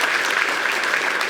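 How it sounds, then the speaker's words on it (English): A round of applause from an audience at a press event introducing the new WVU men's basketball head coach, continuous dense clapping throughout the short stretch. "Give him a round of applause."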